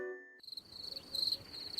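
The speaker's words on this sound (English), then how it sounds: "Crickets!" Cricket chirps play as a comic gag at a wedding reception after a joke falls flat. A steady high, thin trill follows a short tonal sound that cuts off, fairly quiet with no talk over it.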